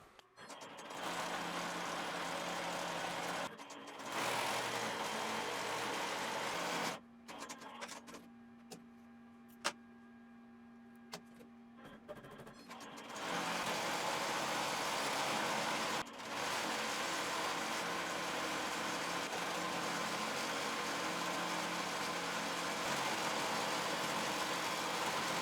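A chainstitch embroidery machine stitches 3D puff embroidery with a steady mechanical hum and faint ticking. It drops to a quieter, sparser stretch partway through before resuming its continuous run.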